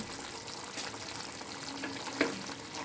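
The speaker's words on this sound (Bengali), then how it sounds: "এবার মাছটাও কিন্তু বেশ কিছুক্ষণ ঝোলের সঙ্গে আমি ফুটিয়ে নেব" Fried hilsa fish pieces simmering in a bubbling curry gravy: a steady, close, hissing bubble with faint popping and one small knock midway.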